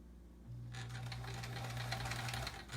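A sewing machine stitching quilt pieces starts up and runs steadily with a low motor hum and fast, even needle clatter, close and fairly quiet, with no voices.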